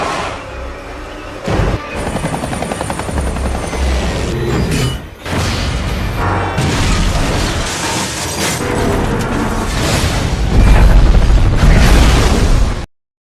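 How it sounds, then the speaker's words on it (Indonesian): A loud, chaotic roar of crashing and explosive bursts as a locomotive derails and explodes in the film Unstoppable, with a brief dip before a heavy boom swells near the end and cuts off abruptly. "lokomotif itu yang harus tergelincir dan meledak"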